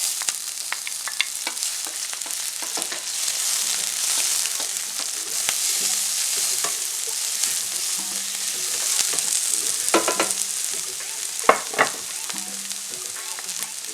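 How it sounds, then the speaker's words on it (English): Garlic and pepper frying in hot oil give a constant bright sizzle, with intermittent clatters from stirring and scraping in the pan. "at this time I'm going to go in with some oil, my garlic and pepper,"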